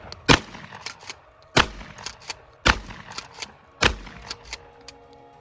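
Video game gunfire aimed at a stick, a series of crisp shots in uneven bursts with four louder reports and quicker lighter shots between them, close and clear with no talking.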